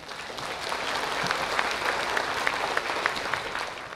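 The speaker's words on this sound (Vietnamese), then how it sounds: "Xin quý vị cho một vỗ tay" Applause from an audience at a Vietnamese-language school summer-class closing ceremony, a steady wash of many hands clapping together for several seconds without talk.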